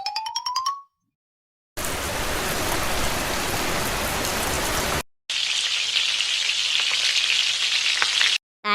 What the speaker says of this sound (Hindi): आज तो बारिश भी हो रही है